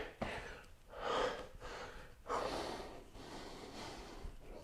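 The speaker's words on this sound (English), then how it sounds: "Breathing." Heavy, rhythmic breathing during an arms and legs workout, several deep close-up inhales and exhales in slow cycles, each breath a loud rushing puff with no talking.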